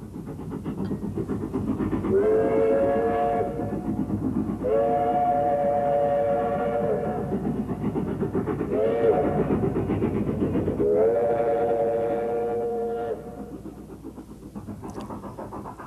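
A train runs steadily with a rumbling roll while its whistle blows four long, loud, harmonious blasts in a row, then the sound eases off near the end.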